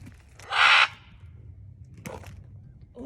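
A pet parrot calls from a tree outdoors in Pahrump, Nevada, one loud harsh caw-like squawk followed by two fainter, shorter calls over quiet background hum.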